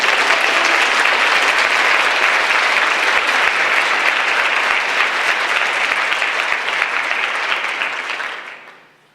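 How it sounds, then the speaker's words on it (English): A large audience claps loudly and continuously for about eight seconds before the applause tapers off and ends abruptly. "I'd like for us to all give him a round of applause for creating this deal."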